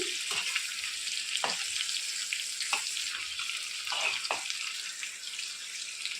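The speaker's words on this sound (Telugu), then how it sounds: "ఇలా వేసుకొని వీటిని బాగా మంచి కలర్ వచ్చేంత వరకు ఫ్రై చేసుకోవాలి" Stuffed bitter gourds fry in oil with a bright, constant sizzle and crackle, broken by several soft knocks and shifts as the pieces are moved, close up with no one speaking.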